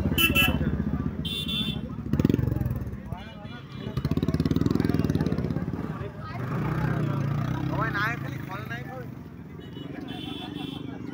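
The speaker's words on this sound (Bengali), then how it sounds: "ওফ, এই বাইকের আওয়াজ তো একদমই সহ্য হয় না ভাই।" Motorcycle engines revving and idling among a dense, noisy festival crowd at a palm grove, with engine noise rising and falling beneath constant nearby chatter and a brief horn toot.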